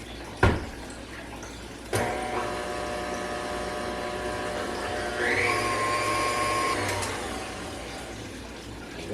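Electric mixer whisk beating Oreo cheesecake batter in a bowl, a steady motor whir running continuously after a couple of knocks, rising slightly in pitch and loudness partway through, with no talking.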